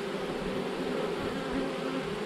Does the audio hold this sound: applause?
no